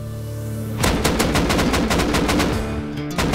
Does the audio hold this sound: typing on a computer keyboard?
no